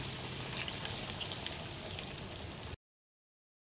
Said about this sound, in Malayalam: ഇതുപോലെ നമുക്ക് ബാക്കിയുള്ള കട്ട്ലറ്റുകൾ കൂടെ ഫ്രൈ ചെയ്യാം